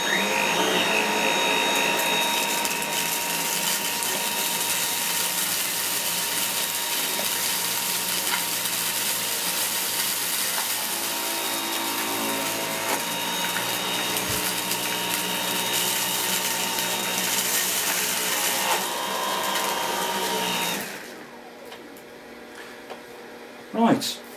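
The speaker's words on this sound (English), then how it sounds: "going to pass the cleaner closest to the camera on low power, one pass straight through the middle and back again, and we'll see how well that picks up" Dyson V8 Total Clean cordless handstick vacuum cleaner running on low power as it picks up dirt from a floor, a steady loud whine with motor hum for about twenty seconds before it switches off.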